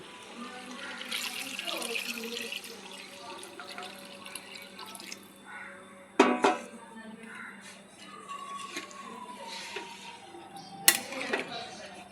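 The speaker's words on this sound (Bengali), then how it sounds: "এবার দিয়ে দেবো মিক্সির জার ধোয়া জলটা গরম করে রেখে নিয়েছি, দিয়ে দেবো" Heated rinse water from a mixer jar poured into a chicken and potato curry in a pan, a soft pouring and bubbling wash with a couple of sharp utensil clinks, faint and close.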